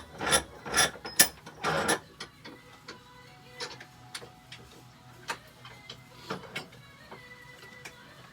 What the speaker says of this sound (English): I'm just going to use my jeweler's saw.